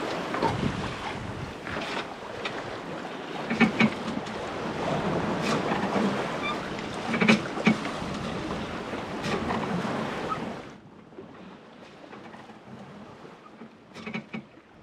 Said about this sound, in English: gliding through the open sea on a multi-day passage